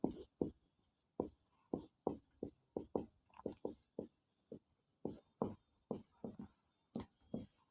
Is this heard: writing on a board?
yes